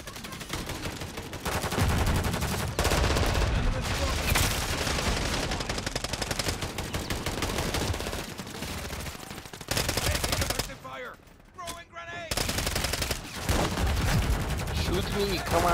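Rapid gunfire and explosive bursts from a Call of Duty Hardpoint match, loud and dense for most of the stretch with a brief quieter gap near the end.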